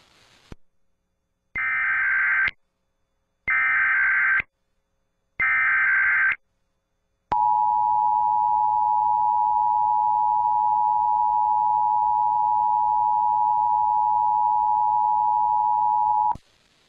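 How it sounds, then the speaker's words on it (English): Emergency alert system test tone from a SiriusXM radio monthly test: three short buzzing data bursts, then a long steady electronic alert tone holding for about nine seconds, loud and alone with no talk. "If this had been an actual national emergency, official messages would have followed the alert tone"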